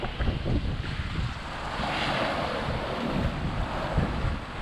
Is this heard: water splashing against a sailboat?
yes